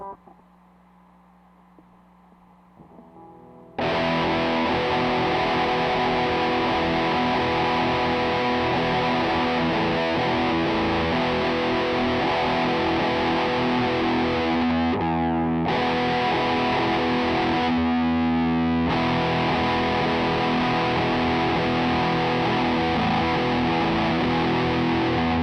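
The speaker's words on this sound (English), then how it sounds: "Metal brings you up into the distortion pedal high gain range." Heavily distorted electric guitar through a B6 headphone amp's metal high-gain setting roars in with sustained high-gain chords after a quiet start, loud and continuous with two brief breaks.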